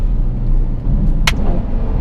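Exhaust of a Ferrari F12 Novitec N-Largo: a loud, deep, steady low rumble at cruising speed with a brief sharper burst partway through, no talking.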